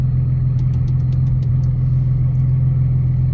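An Audi B5 S4 runs with a steady low engine drone throughout, a constant close rumble with a few faint high clicks or ticks scattered over it and no talking.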